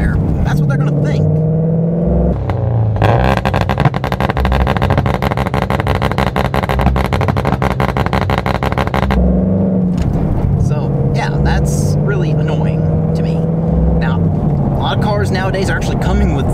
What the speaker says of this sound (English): this car specifically, it has a little pop, pop, pop when you let off the gas